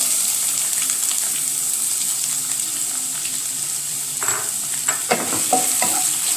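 Dried red chillies, curry leaves and chopped onion frying in a pan: a constant loud sizzle throughout, with a few sharp stirring scrapes near the end.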